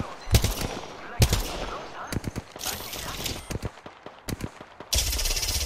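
Gunfire in the video game Apex Legends: sharp single shots and quick volleys of automatic fire, some close and loud, others lighter, scattered irregularly, ending in a dense burst.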